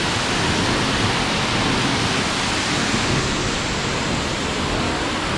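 Ramboda Falls, a waterfall in Ramboda Pass, Pussella, Sri Lanka, roars as one steady, loud, dense rush of falling water. The sound is unbroken and even throughout, with no voices.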